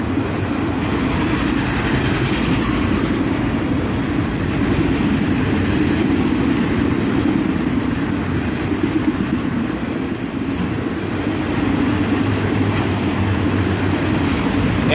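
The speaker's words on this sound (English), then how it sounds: "And some CSX and old Conrail boxcar bring up the end of the train." A CSX freight train with old Conrail boxcars at the rear rolls past at dusk, giving a loud, continuous rumble with rhythmic wheel clatter, close and steady throughout with no voices.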